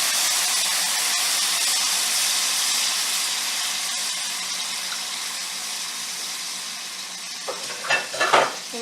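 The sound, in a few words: lemon juice and wine poured into hot skillet to deglaze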